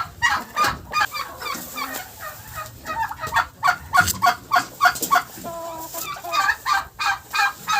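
Rapid bursts of turkey gobbling repeat in quick succession, loud and close, mixed with other poultry calls.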